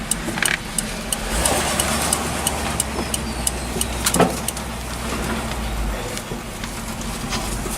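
A parked truck with a roughly 10 to 12 foot bed idles in a steady low rumble, close by, with scattered clicks and knocks over the engine drone and no talk.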